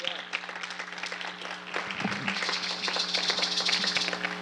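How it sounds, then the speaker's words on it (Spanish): A church congregation applauds in a steady, lively clatter that runs throughout the clip, mixed with sustained musical tones and some voices. "Denle otro fuerte aplauso al Señor."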